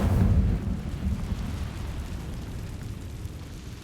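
Incendio fire spell cast in the video game Hogwarts Legacy, a loud whooshing burst of flame that swells at the start and then settles into a steady, crackling rumble that lasts throughout.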